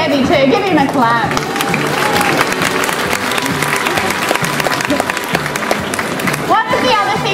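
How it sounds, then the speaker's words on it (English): Audience applause breaks out for Flynny, a heavy trained dog performing at the 2016 Sydney Dog Lovers Show, with steady dense clapping from a crowd and a bit of babble throughout. "Give him a clap."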